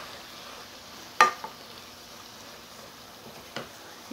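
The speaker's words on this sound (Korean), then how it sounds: "이게 이제 지글지글 소리가 나면 이렇게 볶아줍니다." Seasoned dried radish greens stir-fry in a pan with a soft, steady sizzle and a few sharp scraping clicks from stirring, close by and fairly quiet.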